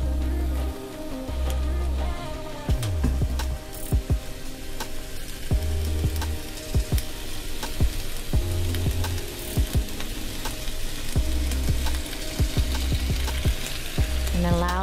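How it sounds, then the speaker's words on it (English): Oxtail browning in olive oil in a pan, a dense continuous sizzle with scattered sharp pops and clicks, while low tonal background sounds run beneath. "And allow the oxtail to brown on all sides."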